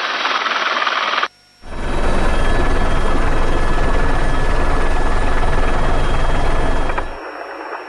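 A rescue helicopter setting down in Joshua Tree National Park roars loudly at close range, its rotor thump and turbine whine steady and heavy, cutting out briefly at the start before returning in full force.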